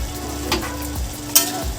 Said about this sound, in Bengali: এবার এর মধ্যে ভেজে রাখা আলুটা দিয়ে দিচ্ছি